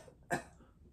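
A single short cough, close and fairly faint, sounds once with quiet background before and after.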